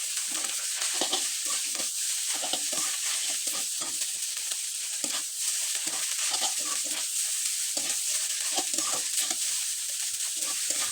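Homemade noodles stir-fried in a pan with Maggi masala, a steady sizzle of frying under repeated scraping and stirring strokes from a utensil, close and continuous with no talking.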